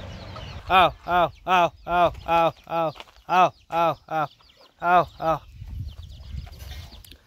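A local hen clucks repeatedly in a quick series of short, evenly spaced calls, close and clear, trailing off into softer rustling.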